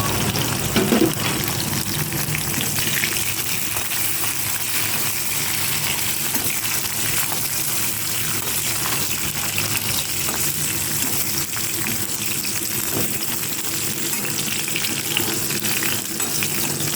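Green chillies fry in hot oil with a loud, steady, dense sizzle that holds evenly throughout, with no talking.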